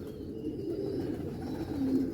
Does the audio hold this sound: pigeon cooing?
yes